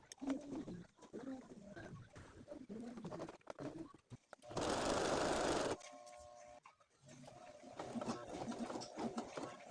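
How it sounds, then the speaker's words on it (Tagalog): A Brother sewing machine sews a buttonhole in a brief, loud burst of rapid stitching lasting just over a second. Pigeons coo softly before and after it. "Sewing buttonhole that using brother machine."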